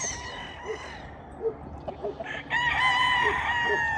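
A young rooster crows in a farmyard, its drawn-out call rising clearly near the end, with several short clucks and other fowl sounds scattered before it at moderate distance.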